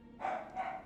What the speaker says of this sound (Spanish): Perdón por los perros, se están alterando